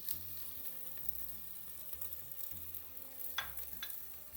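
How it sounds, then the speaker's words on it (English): Steady sizzling of onion frying in hot oil, with occasional stirring scrapes and light clinks, close up and alone without voices. "so when the oil gets hot we're going to put the onion in there"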